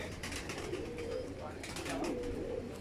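Kamagar pigeons cooing softly nearby in repeated low, throaty phrases, with faint background noise and no clear talking.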